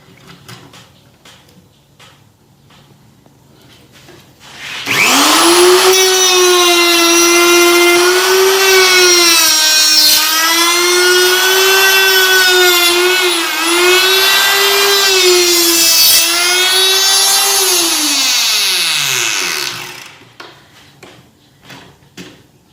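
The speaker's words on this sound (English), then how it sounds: "Cutting 22mm timber, 77 wide." A router cuts a tenon into 22 mm timber, 77 mm wide, using a mortise and tenon jig: a loud, high whining motor spins up, holds a steady pitch with slight dips while cutting for about fifteen seconds, then winds down.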